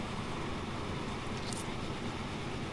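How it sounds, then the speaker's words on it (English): Goods train running in the Transport Fever simulation game, a steady broadband rumble of wheels and wagons that holds at an even level throughout, with no talk over it. "So here's my little baby goods train."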